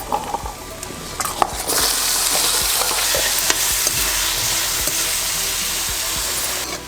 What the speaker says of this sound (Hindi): यहाँ मैंने मूली को 1 मिनट के लिए फ्राई किया है।